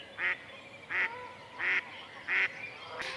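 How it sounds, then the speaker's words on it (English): A duck gives a hail call, a run of four loud, evenly spaced quacks followed by the start of a fifth, close and clear against a quiet background. "They use this quack to call other ducks to them, typically their baby ducklings."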